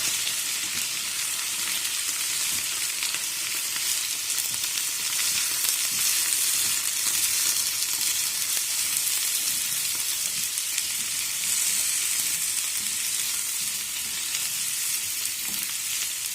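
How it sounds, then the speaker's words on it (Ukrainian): Steady, bright sizzling of potatoes frying in a hot pan, continuous and close, with no talking over it. "бачите, най вона смажиться"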